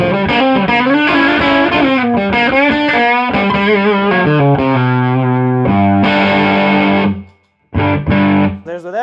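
A heavily distorted electric guitar through a Vox TB35C1 amplifier with boost engaged plays a loud riff of chords and sustained notes, with a brief pause before the playing resumes.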